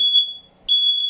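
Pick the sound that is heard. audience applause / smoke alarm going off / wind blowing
smoke alarm going off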